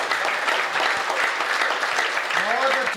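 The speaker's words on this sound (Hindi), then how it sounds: "तालियां थोड़ी बड़ी कर दें आप।" Audience at a Hindu devotional speech claps steadily in a dense, continuous wash of applause that holds at an even level throughout, with faint voices mixed in beneath it.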